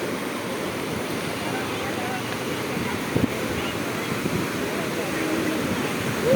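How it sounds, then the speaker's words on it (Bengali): Steady roar of big waves washing onto Kuakata beach at sunset, broad and continuous, with wind buffeting the microphone and a faint murmur of many visitors in the background. "বিশাল বড় বড় ঢেউ।"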